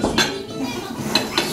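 Kitchen dishes clink close by as a preparation with warm milk is poured, with several sharp, bright knocks of a utensil against a bowl spaced through a short moment and no talking.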